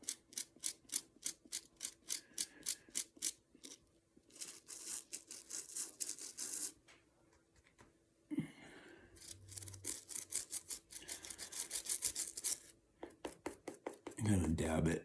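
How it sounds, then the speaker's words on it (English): A toothbrush tip scrubbing and dabbing, heard as bursts of rapid, rhythmic bristly strokes near the mic, separated by short pauses and a few soft knocks. "Right here, just kind of use the tip of the toothbrush."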